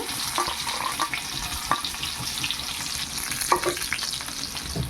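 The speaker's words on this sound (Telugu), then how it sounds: "నెక్స్ట్ వెల్లుల్లి రెబ్బలు దంచి వేస్తున్నాను" Crushed garlic cloves fry in a pan with a continuous crackling sizzle, close by, broken by occasional stirring clinks and scrapes.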